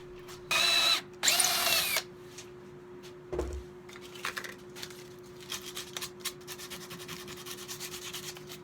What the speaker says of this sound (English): This hole that I'm drilling through the top of the stick